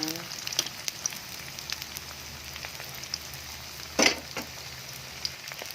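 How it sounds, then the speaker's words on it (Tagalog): Lumpia spring rolls fry in hot oil, giving a continuous soft sizzle with scattered pops and one louder crackling burst, close by and without speech. "Yan po, brown na po ang ating lumpia. Lumpiang prito."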